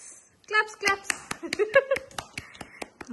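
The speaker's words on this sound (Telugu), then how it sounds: "క్లాప్స్" Several sharp hand claps ring out in an irregular burst close by during a family iPhone unboxing, mixed with voices talking and chattering over them.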